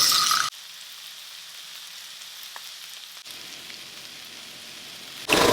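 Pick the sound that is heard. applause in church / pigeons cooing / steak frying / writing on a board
steak frying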